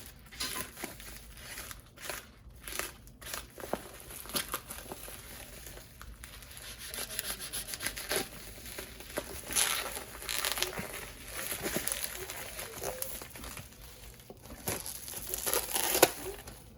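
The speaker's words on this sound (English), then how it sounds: "So we'll just cut this back without trying to cut ourselves here." A DeWalt utility knife cuts open plastic packaging on a tool shipped from overseas, giving close, irregular crinkling, rubbing and tearing sounds in uneven bursts for most of the stretch, with no talk.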